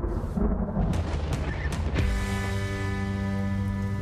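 Thunder and rain in a film scene of a hail storm: heavy rain hisses steadily while several sharp thunder cracks strike in the first two seconds, then a deep sustained rumble rolls on underneath, loud and without voices.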